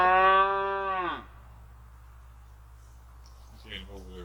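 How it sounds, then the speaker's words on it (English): A neighbor's cow lets out one loud, close moo that falls in pitch and fades after about a second, followed by quiet farm ambience and then a short voiced sound near the end. "We have neighbors who have cows too."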